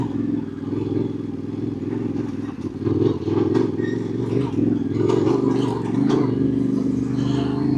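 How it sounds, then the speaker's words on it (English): Another motorcycle comes around a mountain road bend in Utah, heard from a rider on a Yamaha Tenere 700, with a droning engine, wind rush and clattering bursts that rise and stay loud. "There's gonna be another bike coming around this bend."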